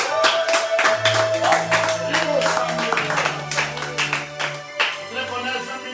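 Congregation at a French-language worship service clapping in a steady rhythm, close and lively, with sustained organ or keyboard tones and voices mixed in.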